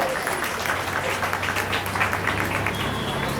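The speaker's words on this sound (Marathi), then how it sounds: "टाळ्या वाजवून विद्यार्थ्यांचं कौतुक करायचं आहे आपल्याला" A crowd claps steadily and fairly loudly for a few seconds, a dense, continuous round of applause for students at a college Republic Day celebration in Nagpur.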